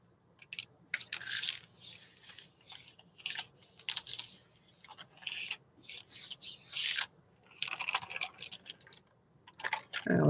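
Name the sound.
rubbing painted paper on a gelli plate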